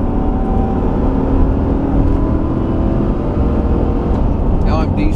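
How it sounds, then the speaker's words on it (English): A car engine roars hard under full acceleration, a loud, dense, sustained drone from inside the vehicle. "Here's wide open throttle."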